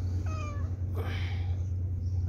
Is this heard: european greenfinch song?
no